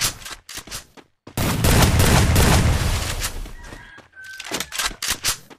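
Bursts of rapid automatic gunfire from a shooting video game: a few short shots, then a dense sustained volley, then more scattered shots, loud and close.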